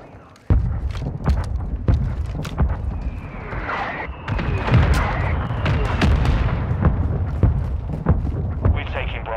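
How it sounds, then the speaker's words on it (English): Mortar strike explosions in Call of Duty: Modern Warfare II: a run of sharp, booming blasts and cracking shots, loud and close, with a battle rumbling underneath and voices over it. "Our mortar strike is inbound."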